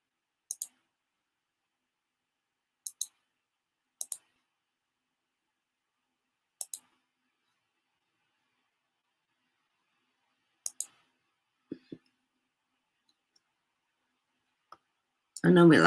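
Sparse keyboard clicks sound in a quiet room during an online call, isolated sharp taps spaced a few seconds apart with near silence between, and a voice begins at the very end.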